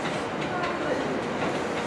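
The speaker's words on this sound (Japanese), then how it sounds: "高崎行きが参ります。" A JR rapid train pulls into a station platform with a steady loud rumble and rolling wheel noise over the track.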